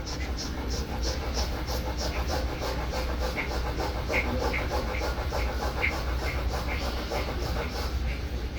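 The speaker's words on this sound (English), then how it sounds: "that's rapid breathing" Rapid breathing exercise at a health talk in a town hall: quick, rhythmic, panting breaths repeat steadily throughout over a constant hum of room noise.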